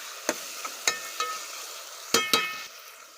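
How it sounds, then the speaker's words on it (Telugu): Boiled prawns with salt and turmeric are stirred into tomatoes in a pan, giving a soft sizzle broken by several sharp scraping and clinking strokes of the spoon. "ఉప్పు పసుపు వేసి ఉడకబెట్టుకున్న ప్రాన్స్ వేసుకొని మిక్స్ చేసుకుందాం"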